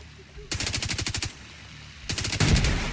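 Assault rifle fire in The Division 2, two separate rapid bursts of evenly spaced, loud shots separated by a short pause, the second burst ending in a heavier, booming impact.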